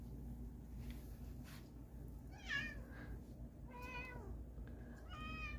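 A house cat meows three times in a home game room, short rising and falling cries spaced a second or so apart, moderately close over a steady low room hum with no talking.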